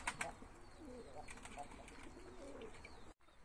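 Pigeons coo softly in their coop, with faint bursts of wing flapping and rustling, under low background noise and nearby human voices.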